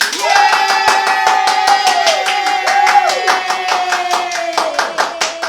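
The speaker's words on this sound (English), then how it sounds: "let's clap our hands for them" Hands clap in a steady, rhythmic beat, loud and close, while a voice calls out over the claps throughout.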